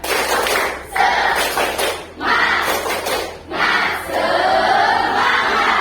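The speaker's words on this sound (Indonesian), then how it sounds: "Tepuk semangat." A classroom of students performs a rhythmic spirit clap led by the class president, with bursts of group clapping and shouted chanting broken by short pauses, loud and close.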